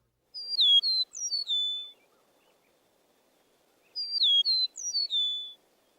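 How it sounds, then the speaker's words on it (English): Eastern meadowlark song: two clear, sweet whistled phrases of descending slurred notes, separated by a brief pause, close and bright against near silence. "The song of the eastern meadowlark is often written as spring of the year, spring of the year."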